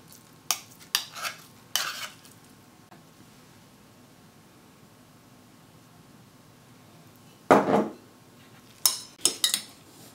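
Salad of tuna, rocket, chopped tomato, spices and oil being mixed in a bowl: short bursts of clinking and scraping, a few close together at first, then a long quiet stretch before more bursts near the end.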